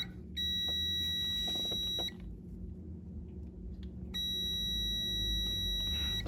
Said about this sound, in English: Here's my multimeter. I'm gonna go over to continuity.